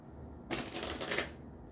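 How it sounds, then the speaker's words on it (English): A deck of playing cards is given a quick shuffle during a magic card trick, a dense burst of riffling paper clatter lasting under a second, close and fairly quiet, with no talking. "I'm going to give these guys a quick shuffle here."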